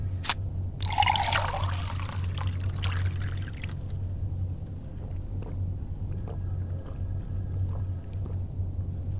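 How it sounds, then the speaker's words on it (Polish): Water poured into a glass in the video game Fahrenheit Remastered, a short splashing trickle in the first few seconds, then quiet room hum with faint clicks. "Proszę bardzo, nalej sobie wody."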